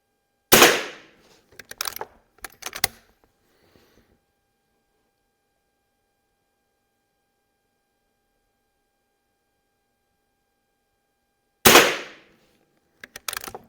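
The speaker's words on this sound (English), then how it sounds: "So now I'm going to shoot offhand, and this is going to be the lower right-hand target." Marlin 39A color case hardened rifle from 1941 production, fired offhand at a target outdoors: a sharp, loud crack at the start with a few quick follow-up clatters, a long silence, then another loud shot near the end.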